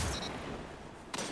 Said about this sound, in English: Do like having a linear fusion rifle in the primary slot, though.